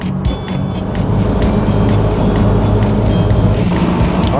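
Interior of a car driving on wet roads behind a 1946 Chevy truck, with a loud steady engine and road rumble and a regular ticking sound running throughout.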